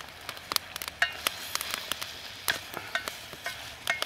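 Vegetables and asparagus sizzling and crackling in a stir fry over open flames in a Bush Box XL stove, a steady near frying hiss with frequent sharp pops scattered throughout, no talking.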